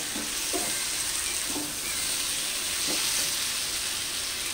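Spice paste sizzles in oil in a pan while cooking a vegetarian labra, a soft continuous frying hiss with a few faint scraping stirs, quiet and steady with no talking.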